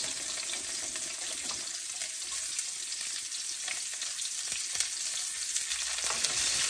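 Onions sizzle and fry in a hot wok for fried rice, a dense, continuous crackling hiss heard close up with no talking.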